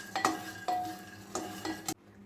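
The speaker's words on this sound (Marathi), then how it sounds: "अजून आपल्याला 5 मिनिटं शेंगदाणे भाजायचे आणि मधून मधून हलवतच राहायचं" Peanuts dry-roasting in a pan, stirred in three or four distinct scraping bursts with rattling nuts and a metallic ring, each separated by short pauses, then it stops abruptly.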